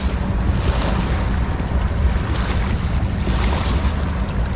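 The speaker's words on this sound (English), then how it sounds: "We start having some real waves." Barge wake waves roll along the Ohio River in a loud, continuous wash and rush of water, with heavy wind buffeting the microphone throughout and no voices.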